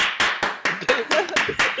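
A short burst of hand clapping, roughly seven or eight quick claps in a steady rhythm, close and fairly loud, with no talking.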